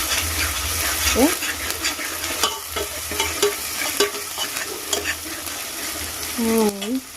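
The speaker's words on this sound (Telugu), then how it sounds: "ఆనియన్స్ ఫ్రై అయ్యాక అల్లం వెల్లుల్లి పేస్ట్ అనేది యాడ్ చేసుకున్నాను దాంట్లో." Ginger garlic paste frying with onions in a pan for mushroom curry: a steady, close sizzle broken by repeated stirring scrapes, with a couple of brief tonal chirps partway through and near the end.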